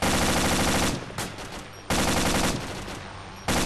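Heavy automatic gunfire in the survival game DayZ, very loud sustained bursts repeating in three waves with brief quieter gaps between them.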